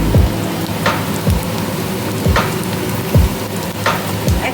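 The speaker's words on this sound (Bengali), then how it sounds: "পেঁয়াজটা ভাজা করতে হবে।" Onions frying in a pan with a loud, steady sizzle, broken by regular scraping stirs about once a second that sound close and prominent.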